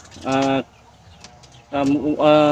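Chickens and roosters kept in battery-type breeding cages make two loud, close vocal calls separated by a short quiet gap.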